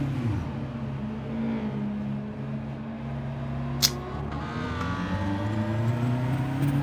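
A racing car engine in the video game Gran Turismo 7 drones and revs steadily throughout, pitch shifting up and down, with one brief sharp click partway through.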